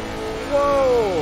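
A race car engine in the racing game Assetto Corsa Competizione pulls out of the pits, holding a steady mechanical drone before its pitch climbs and then slowly sweeps down as it accelerates away.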